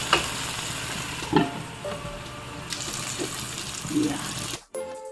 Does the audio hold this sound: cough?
no